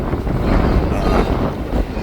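Steady wind buffeting a microphone outdoors, a continuous low rumble with gusty swells and no voices.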